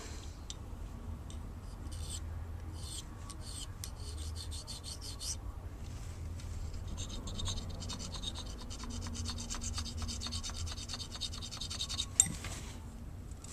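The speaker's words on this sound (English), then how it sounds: "we're going to file that down just a little with our tiny little file" A tiny file rasping a burr off an Auto Mag pistol part, a close, steady scratchy filing of short repeated strokes that continues throughout with no talk.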